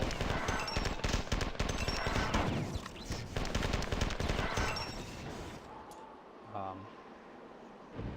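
Grenade explosions and weapon fire in the first-person shooter Marathon 2: Durandal come as dense, loud, rapid bursts for about six seconds, then drop away to quieter game ambience with one brief low thud near the end.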